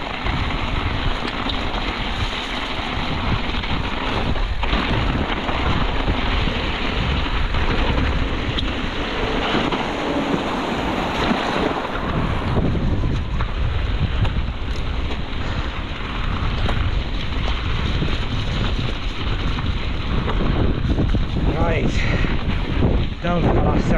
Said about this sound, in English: more headwind